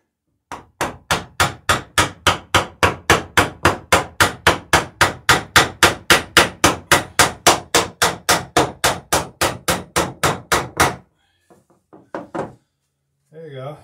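Rivets are hammered into boat bottom boards with about forty loud, close, evenly spaced blows in a fast steady rhythm, followed by a brief pause and a few scattered lighter knocks.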